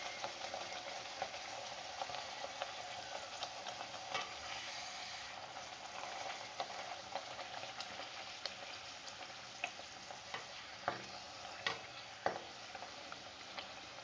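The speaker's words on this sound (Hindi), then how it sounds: "अब हम इसी तरह से दूसरी पूरी भी फ्राई कर लेते हैं" A puri frying in hot oil gives a steady, close sizzle with scattered sharp pops and crackles, alone without any voices.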